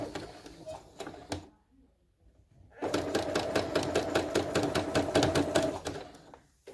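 A sewing machine stitches a lining onto a crochet tutu top in a steady close rhythmic whir, a short burst first, then a pause, then a longer continuous run of stitching.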